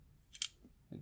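Scissors snip off the end of a strip of tape covering the 3.3V pin on a drive: one sharp, close cut, then a softer rustle as the piece comes away, in a quiet room.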